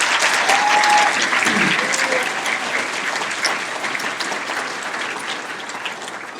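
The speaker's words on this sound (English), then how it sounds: "So please give them another round of applause." Sustained audience applause fills a gala evening for the Fentanyl Free Communities Foundation, a dense, loud wash of many hands clapping that fades slightly over several seconds, with faint voices mixed in.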